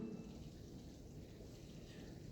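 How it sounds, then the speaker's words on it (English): Rain falls steadily outdoors, a faint, continuous low wash of patter heard from inside, with no talk over it. "It is raining here. I do apologize if you can hear that in the background."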